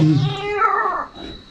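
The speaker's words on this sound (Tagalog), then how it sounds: "Parang pusa. Pusa talaga bro." A short, plaintive cat meow rises and falls with a whiny, drawn-out tone, fairly close and clear, heard inside a cave.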